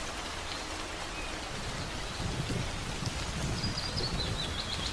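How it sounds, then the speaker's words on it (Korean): Rain falls steadily in a forest, a soft continuous patter on leaves and ground, with a faint bird call in the background. "숲을 적시는 빗방울이 공기를 촉촉하게 만들고 향긋한 나무 냄새를 실어옵니다"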